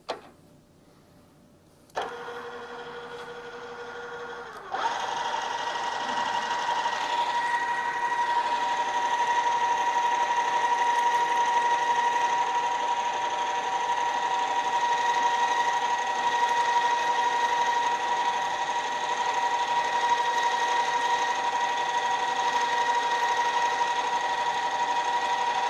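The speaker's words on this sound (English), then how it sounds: "And now move on to the 1/4 inch drill." A drill motor spins up in steps to a steady high whine, then holds a constant drone for a long stretch while a quarter-inch drill bores into metal in a machine shop.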